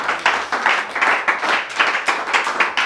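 A church congregation applauds with brisk, continuous hand clapping in uneven pulses, close and fairly loud, without speech over it.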